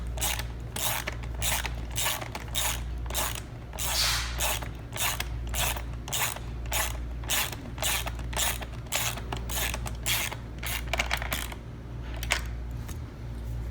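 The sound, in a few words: ratchet tightening nylon locking nut on washers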